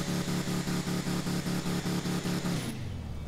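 A car's exhaust note in GTA 5, a loud pulsing engine drone with a rhythmic throb that suddenly drops away into a lower idle near the end, with no talk.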